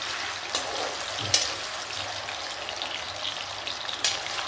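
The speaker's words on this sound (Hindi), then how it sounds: "अभी इस आलू को हम भून लेते हैं" Potatoes fry in oil in a pan on a gas stove on high flame, producing a steady, moderately quiet sizzle with a few sharper pops and crackles.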